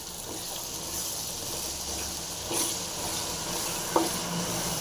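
Ground bitter gourd paste frying in a pan for a pickle, a steady low sizzle with stirring scrapes and a brief clink, close and without voices.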